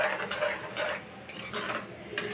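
Kheer of milk and palm pulp being stirred in a pot, a spoon scraping and clinking against the metal in repeated strokes, quiet and close with no talk.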